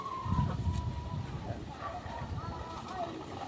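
Soft clucking from gray chickens, fairly faint, over a low background rumble and murmur.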